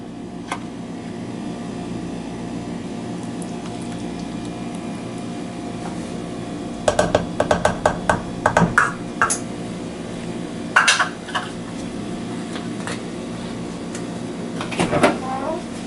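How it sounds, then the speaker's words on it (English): Buttermilk being stirred into a crumbly cornmeal biscuit mixture in a bowl, with clusters of quick scraping and clinking spoon strokes against the bowl over a steady background hum, close by, no voices. "we'll stir until the mixture is just moistened"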